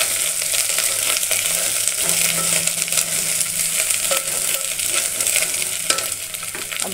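Ginger and garlic fry in hot oil in a pan for a dhonde curry, a loud continuous sizzle with spoon stirring and scraping throughout, close up and without speech.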